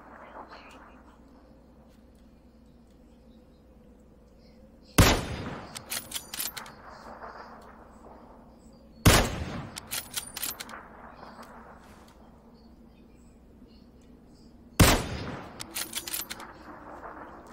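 Three separate bursts of gunfire in PUBG, spaced several seconds apart. Each opens with a loud sharp crack followed by a quick string of shots over a quiet low hum.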